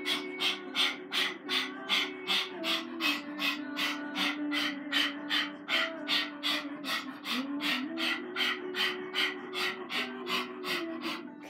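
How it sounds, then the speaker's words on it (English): Kundalini yoga breathwork: rapid, rhythmic panting like a dog, about two breaths per second in a steady even pulse for over eleven seconds, close and clear with a faint voiced tone running underneath. "imagine like a panting dog"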